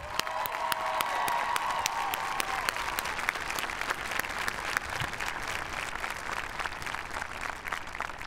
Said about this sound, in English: put your hands together and clap for all of those